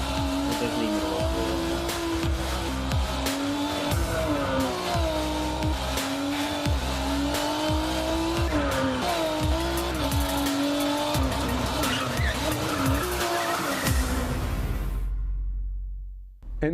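A Team Fordzilla Project P1 race car in a video game revs hard with a loud, sustained engine whine, shifting pitch through gears, with tire squeals and skidding throughout before cutting off abruptly at the end.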